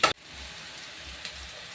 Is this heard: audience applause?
no